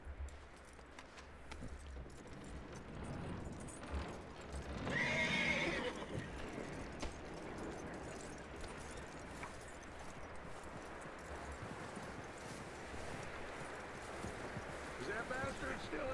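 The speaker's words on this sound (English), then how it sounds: "That looks like a decent horse." In Red Dead Redemption 2, a horse gives a loud whinny midway while hooves clip-clop steadily on the ground throughout, with some talk in the scene.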